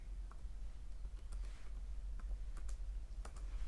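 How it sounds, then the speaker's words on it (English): Quiet computer keyboard typing, a few scattered soft key taps and clicks over a low background hum, close and faint, without speech. "I'm typing in English again."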